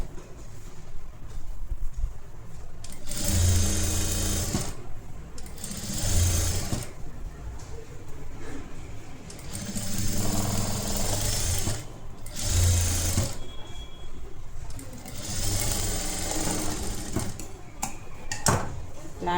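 A sewing machine stitching blouse fabric and lining with a flat stitch runs in several sustained whirring bursts of a few seconds each, close and loud, separated by short pauses.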